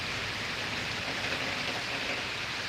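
Heavy rain pours outside during an early morning thunderstorm, a dense, steady hiss that stays loud and unbroken throughout, with no voices.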